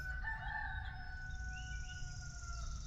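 A rooster crows in a sustained, drawn-out call over a steady low rumble outdoors at a wood-splitting site, the crow fairly clear and mid-distance for about three seconds.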